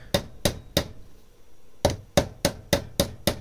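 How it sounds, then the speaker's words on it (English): Sharp metallic hammer blows driving a pulley onto a bearing held in a vise, three in quick succession, a short pause, then six more in a steady rhythm, close and loud in a quiet room. "so I had to take it out and hammer it in the vise"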